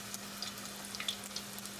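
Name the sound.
crab and cheese wontons frying in oil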